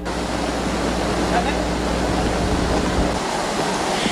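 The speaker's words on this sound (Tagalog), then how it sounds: "Ganito katindi ang agos ng tubig sa kahabaan ng ilog sa Minalin." Strong current of floodwater rushing along a river in Minalin, Pampanga, after an earth dike gave way; a steady, loud broadband roar of churning water continues throughout, with a low rumble that drops away near the end.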